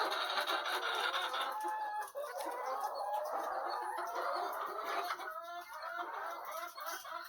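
Chickens at a poultry farm cluck and chatter continuously, several birds overlapping at close range with a busy, uneven rhythm and no talking.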